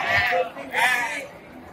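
A Javanese buck goat bleats twice in quick succession at a goat market in Banjarnegara, nasal and wavering, fairly close and loud, then fades into faint background noise.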